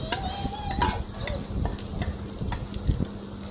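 Dried chilies and onions fry in a home kitchen pan for a mashed bhorta, with steady sizzling and occasional stirring clinks, close and continuous.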